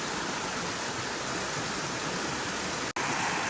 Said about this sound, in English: Just love hearing the bubbling of the creek.